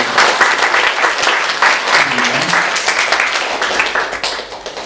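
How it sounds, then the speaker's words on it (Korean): Church congregation applauding birthdays during a Sunday worship service: loud, sustained crowd applause from many hands, dense and even throughout, with faint voices underneath. "다 같이 우리 박수로 축하를 해드리도록 하겠습니다"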